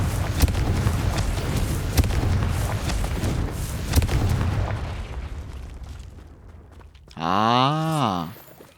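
Confringo fire spell explosions in the video game Hogwarts Legacy: a run of crackling booms and blasts that fades out, followed by a short voiced cast.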